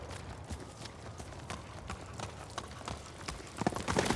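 Horse hooves gallop steadily in Ghost of Tsushima as the rider's horse Kage runs, with a continuous rhythmic clip-clop under a noisy game soundscape that swells slightly near the end.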